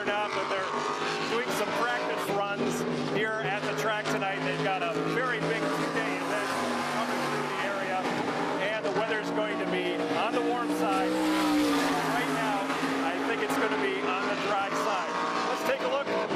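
Race cars at Berlin Raceway roar continuously and loudly, engine tones rising and falling as they pass, with a voice talking over the steady track noise throughout.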